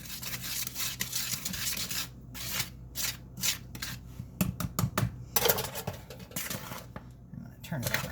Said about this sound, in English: I'm scraping the sides to make sure that I mix everything really well